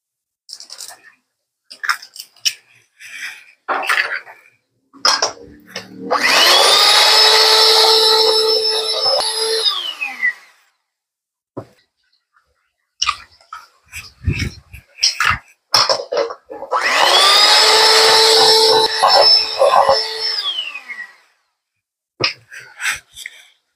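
An electric mixer beats coconut macaroon mixture in two loud, steady bursts of about four seconds each, separated by short clatters and knocks of the bowl and utensils.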